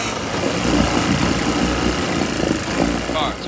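A 1960s outboard motor idles steadily with a busy, rattling putter, fairly close and continuous throughout.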